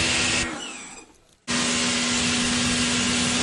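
An electric pressure washer blasts water across a bike as it is cleaned. The steady broadband hiss carries a motor whine and stops briefly before starting again loud and continuous.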